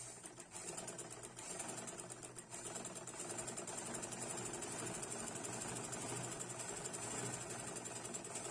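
A sewing machine runs continuously, stitching a half-inch seam on an open palazzo, a faint steady mechanical whirr with no pauses.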